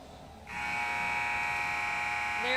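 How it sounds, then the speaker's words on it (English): A loud, steady electric buzzer sounds in a gym during a women's college volleyball game, cutting in after a brief stretch of quiet crowd ambience and holding as one continuous harmonic drone to the end. "There goes the buzzer."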